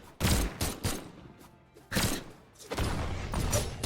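Barraza's gun side signature in Brawlhalla during a tournament match, a few loud bursts of rapid-fire gunshots in quick clusters with short gaps between them.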